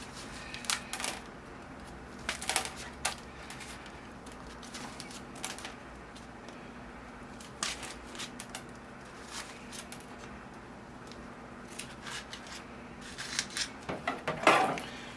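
Scraping, poking and clicking handling sounds as a tool pokes through the drainage holes of a bonsai pot to free the root ball of a Russian olive, in scattered bursts that grow denser toward the end.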